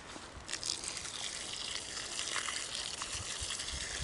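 Water pours and gushes steadily onto loosened, freshly fertilized soil around a newly planted grapevine, a close, soft splashing wash with no talking.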